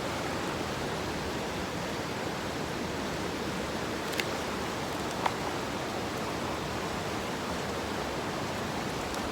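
A mountain stream in Appalachia flows steadily in a broad, continuous rushing wash, close and even, with no voices.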